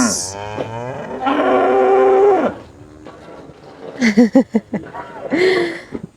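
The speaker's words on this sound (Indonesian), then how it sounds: "ini akhirnya kita bisa lihat sapinya dari dekat" Cows at close range at a farm attraction in Baturaden, Purwokerto, several long drawn-out moos answering one another, the first sustained and loud, then a cluster of shorter pulsing calls and a final moo, with brief human voices between.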